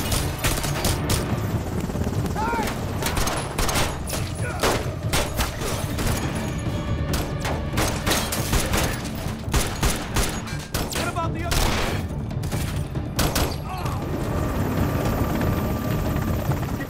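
Helicopter rotor thumping steadily through a chaotic film action scene, with bursts of gunfire and automatic weapons crackling over it and a few booms, loud and continuous throughout.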